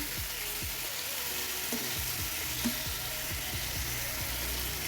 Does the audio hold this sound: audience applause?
no